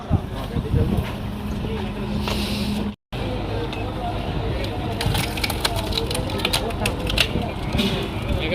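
A hydraulic wood cutting machine chews through wood with continuous crunching and crackling over a heavy engine rumble in Tamil Nadu, loud and close, while people talk over the noise.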